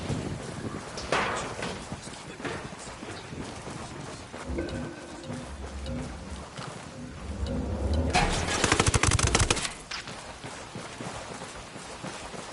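Gunfire in the tactical shooter Ghost Recon Wildlands: scattered shots and bursts over windy outdoor ambience, building to a loud, dense volley near the end before it drops away.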